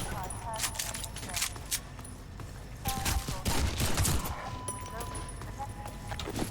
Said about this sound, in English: when all else fails, you can use more conventional shots on them